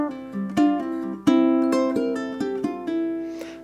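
Ukulele playing a fast bar from an advanced etude, bright plucked notes linked by hammer-ons and pull-offs, including a pull-off to an open string, with steady rhythmic attacks and ringing tones, played solo and close.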